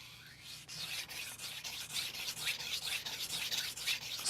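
A knife blade is drawn back and forth across a 1000 grit Cheefarcuut whetstone, giving a close, steady rhythm of smooth gritty strokes roughly every half second, with no voices.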